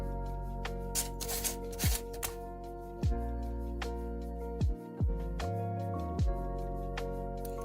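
3D printed X-Wing model parts being cut apart, a series of sharp clicks and snips at an uneven pace, close up, while tonal background music plays with sweeping low notes.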